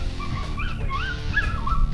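A male coyote barks and yips close at hand, a rapid run of short, high, wavering yelps rising and falling in pitch, heard by hunters over a low steady background noise.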